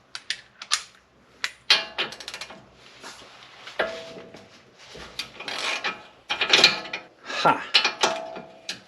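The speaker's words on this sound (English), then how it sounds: "27mm socket to go in here to get it off" A ratchet works a 27mm socket on a bolt of a neglected luxury SUV, giving irregular clicking, scraping and rubbing bursts up close with pauses between, and a brief exclamation from a person.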